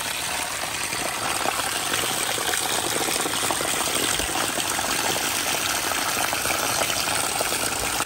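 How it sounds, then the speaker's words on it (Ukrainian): Spring water pours steadily from a silicon-rich soft-water spring beside Schönborn castle in Zakarpattia, a continuous close splashing gush with no voices over it. "І тут таке джерело тече."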